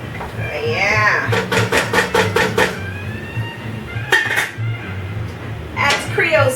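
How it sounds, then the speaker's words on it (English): A metal utensil scrapes and clinks against a cooking pan holding oil, meat and flour for Creole gumbo, in a rapid series of scraping strokes, with someone talking over it. "You want to scrape all that stuff off from the pan"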